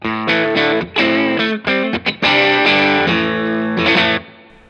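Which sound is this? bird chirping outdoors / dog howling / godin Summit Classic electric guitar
godin Summit Classic electric guitar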